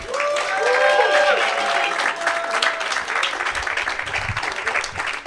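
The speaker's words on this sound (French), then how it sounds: "un tonnerre d'applaudissements s'il vous plaît pour Anthony Morvan" A conference audience at a festival applauds a speaker with steady, dense clapping that holds at a fairly even loudness throughout, mixed with faint crowd murmur and a few tonal sounds early on.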